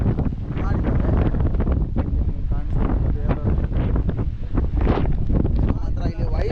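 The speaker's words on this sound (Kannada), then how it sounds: "ಸುತ್ತಮುತ್ತ ಗಾಳಿ ಮಾತ್ರ ಸುತ್ತ ಗಾಳಿ ಬೀಸ್ತಿದೆ" Strong wind buffets the microphone steadily on the Kote Betta hilltop near a temple in Coorg during a monsoon ride, a loud roaring rumble throughout with gusty surges.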